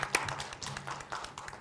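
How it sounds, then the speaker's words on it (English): Scattered clapping from an audience at a business event honouring female leaders, as a few pairs of hands patter unevenly and fairly quietly for a moment. "a round of applause for all of our female leaders"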